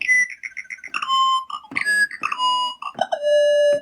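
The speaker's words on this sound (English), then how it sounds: "Bird sound effects." A run of synthetic, bird-like chirps and tweets from a Livingstone DM650 keyboard's bird preset: rapid short bleeps followed by sliding electronic whistles, bright and clean with no talk.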